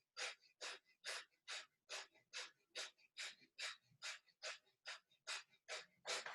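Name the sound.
breath of fire yoga breathing, forceful inhale and exhale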